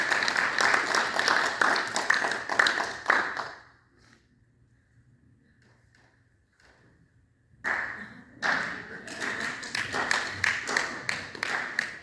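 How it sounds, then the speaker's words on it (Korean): A church congregation claps together at a year-end testimony gathering, bursts of fast, lively applause that stop abruptly for a few seconds of quiet, then start again and continue strongly. "우리 다 같이 박수로"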